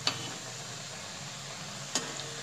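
Chakli frying in hot oil over medium heat, a soft continuous sizzle and bubbling heard close up, with two brief clinks of a utensil against the pan.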